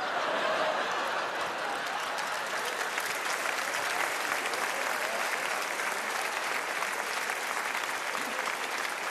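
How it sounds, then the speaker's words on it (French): Steady, dense audience applause fills the room without a break for the whole stretch, loud and close, with a few scattered chuckles mixed into the clapping. "ils applaudissent ma confiance"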